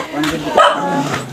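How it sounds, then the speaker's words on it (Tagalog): Several dogs barking and yipping at a rural provincial house in Anilao, a few close sharp barks rising over general commotion, with a person's voice mixed in. "Daming aso."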